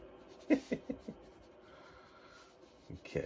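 A pencil scratches across paper while a cow portrait is sketched: a few quick close strokes, a quiet stretch, then more short strokes near the end.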